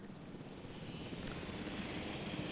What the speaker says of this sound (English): Oh, helicopter's back.